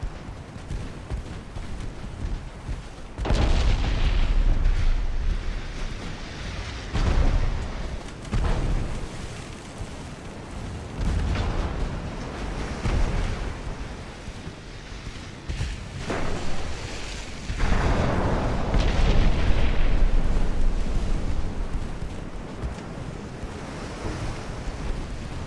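Naval gunfire and 9-inch shell hits in Ultimate Admiral: Dreadnaughts, set in an 1890 Spanish Empire campaign. Heavy booming bursts land every few seconds over a constant rushing roar of wind and sea, with no talk.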